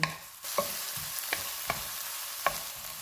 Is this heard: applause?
no